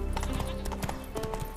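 Roach, Geralt's horse in The Witcher 3, gallops with rapid rhythmic hoofbeats clip-clopping up close, steady and loud over a low game soundscape.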